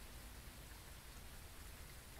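Steady rainfall in the horror video game Phasmophobia, a dense unbroken hiss of drops on surfaces, fairly loud and even throughout, with no voices over it.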